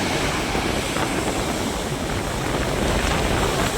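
Strong wind and rough sea waves at Muthalappozhi harbour in Kerala make a dense, unbroken roar that stays loud and steady throughout, with no voices.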